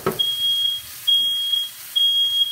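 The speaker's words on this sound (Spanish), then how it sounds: "ya se me prendió la alarma, pero no pasa nada." A kitchen smoke alarm sounds three loud, piercing beeps at a steady pace, each lasting over half a second, set off while cooking a chicken dish.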